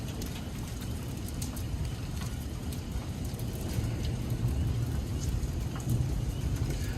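Small hail falls during a severe thunderstorm in Edwardsville, Illinois, making a steady dense patter of many small impacts that grows slightly louder midway, with no talking.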